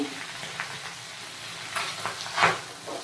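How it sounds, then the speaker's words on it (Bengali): A fish head fries in oil in a pan, giving a soft continuous sizzle with small crackling bursts and light stirring scrapes, fairly quiet and close. "মাছের মাথাটা ভাজা হয়ে গেছে আমি এবার তুলে রাখবো একটা বাটিতে"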